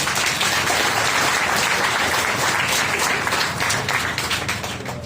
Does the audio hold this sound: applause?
yes